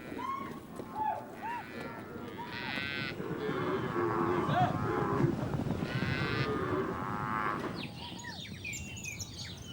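Cattle in the Pantanal marshes lowing in several long, drawn-out moos close by, with birds calling in the background and a voice speaking faintly under the herd.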